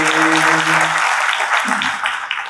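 Steady crowd applause from an audience at a Marathi poet's public speech, a dense continuous clatter of many hands held for the whole stretch, with a faint voice or tone briefly underneath at the start.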